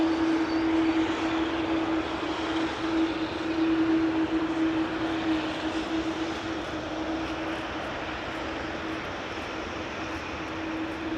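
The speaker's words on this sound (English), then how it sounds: "The A330neo took off" An Airbus A330neo jet takes off from Amsterdam Schiphol, a steady broad roar holding at moderate distance with a sustained tonal hum, gradually easing as the aircraft climbs away.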